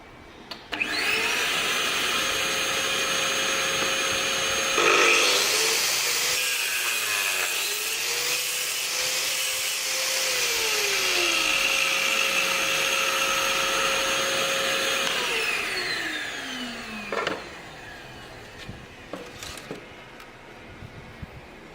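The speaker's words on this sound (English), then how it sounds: "using the jig and the vacuum cleaner and the assembly correctly" A vacuum cleaner attached to a tile drilling jig runs loudly and steadily for about fifteen seconds, with a high whine over a broad rushing roar, then winds down into quiet scraping.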